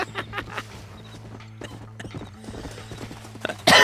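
Horse in a video game, its hooves clip-clopping in an uneven rhythm over a humming background, with a loud burst of noise right at the end.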